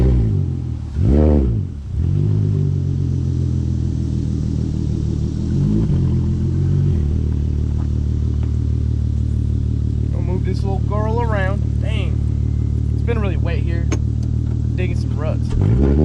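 Car engine idling and rumbling steadily with a brief rev early on, as the car with a short-throw shifter is put in reverse and moved onto grass; some squeaky higher tones appear later.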